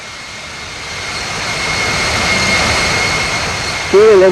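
Boeing 747-200 jet engines spooling up for takeoff in the Infinite Flight simulator at Vancouver, a steady roar with a thin high whine that swells over several seconds; a radio voice breaks in at the very end.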